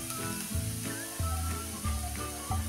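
Ground coriander, cumin and turmeric masala for mirchi vada filling roasts on a low flame, giving a soft, steady sizzling hiss under louder background music with a regular beat.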